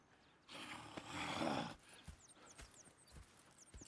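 Horses in the Red Dead Redemption 2 video game: a burst of hoof clip-clop and snorting movement, then scattered softer hoof steps, fairly quiet and close, with no talk.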